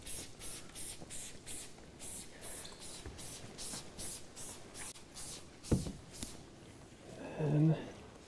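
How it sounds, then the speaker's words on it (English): Trigger spray bottle pre-spraying the lower panels of a car during a winter rinseless wash, a run of quick rhythmic hissing squirts close to the microphone, with a brief knock near the end. "So I'm going to come through and just pre-spray some of these lower parts."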